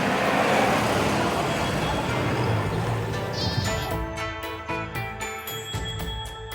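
Sheep and goats bleating in a herd on open Mongolian pasture, a dense overlapping mass of calls at first that thins out, with a steady hum of engine or road noise underneath.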